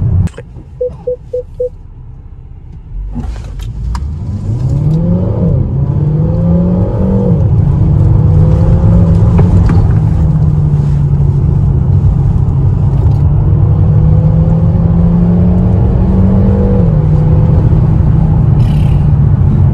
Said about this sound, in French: faut parler aussi du son du THP. Il est très agréable